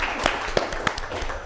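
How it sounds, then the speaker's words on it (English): A short round of applause at a community meeting honors a board volunteer, a few scattered claps from a small group heard fairly close for about a second and a half. "let me give Jean a round of applause for volunteering here"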